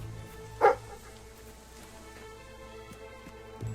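A single dog barks once in the video game Fable 3, a short, clear yelp near the start over a soft game background hum and music.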